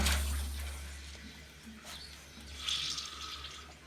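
Water gushing from an opened swimming pool filter, a moderately loud watery rush that eases off then swells again with splashing toward the end, no voices.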